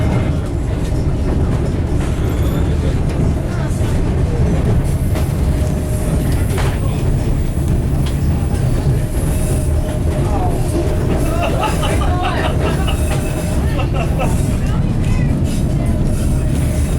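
A 1950s General Electric diesel train on the White Pass line along the Skagway River, rumbling steadily and loudly throughout with rolling wheel and track noise, while people talk over it.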